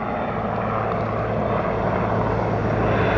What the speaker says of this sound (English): The majestic railroad as the helicopter's coming out right behind the view